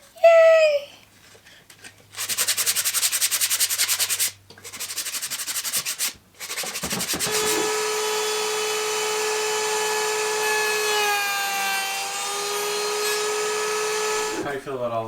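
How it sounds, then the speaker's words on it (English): Repeated rubbing strokes of hand sandpaper on wooden kitchen drawer faces in steady bursts, joined later by a sustained tonal hum. "I'm trying to help sanding these, which is a pain in the butt"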